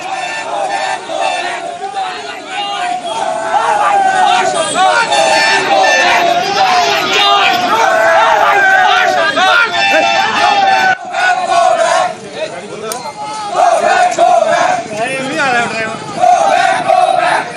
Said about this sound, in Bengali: পেরিয়ে যাওয়ার সময় তৃণমূল কর্মী সমর্থকদের এই গো ব্যাক স্লোগান।